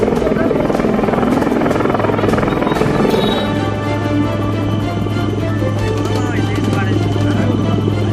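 A helicopter's loud, steady rotor thrum and engine drone fills the scene, close and continuous, with a voice talking over it, during a rescue operation.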